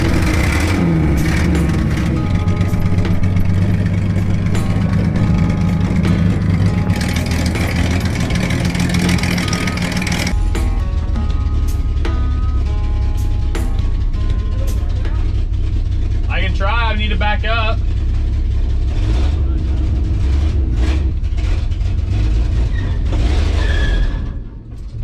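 A Chevrolet C10 truck engine runs close and loud with a rough low rumble, rising and settling as the truck is driven into a shop, with voices talking over it and a brief squeal near the middle.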